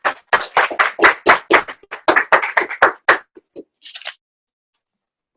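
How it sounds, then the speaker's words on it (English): A small audience at a team meeting claps for a national representative, a burst of sharp, fairly close hand claps that thins out and stops after about four seconds, followed by silence. "Let's give Mason a big round of applause."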